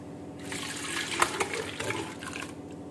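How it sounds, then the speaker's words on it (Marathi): Water sloshes and trickles in a pot as fresh homemade butter is washed, a close liquid swishing with a few brief splashes in the middle. "या पॉटमध्ये मी पाणी घेतलेलं आहे आणि आपण लोणी छान धुवून घेणार आहोत"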